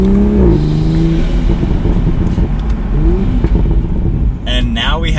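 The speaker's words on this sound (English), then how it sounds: "So we're now in sport mode, we're gonna do the same type of acceleration." A Toyota Supra accelerates hard in sport mode, and the engine note climbs in rising tones with a loud, close exhaust rumble. A short burst of higher whine and crackle comes near the end.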